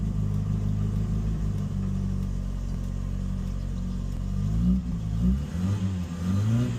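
MK1 Ford Fiesta engine running after a throttle cable replacement, a loud, steady low rumble close by that rises into a few revs toward the end, with no speech.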